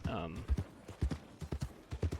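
Horse hooves clip-clop in Red Dead Redemption 2, a steady sequence of soft, evenly spaced thuds heard close, with someone talking over them throughout.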